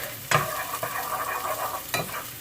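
Rice sautés and sizzles in a pan, a close crackling hiss broken by a few sharp scraping stirs of a spoon against the pan, with no voices.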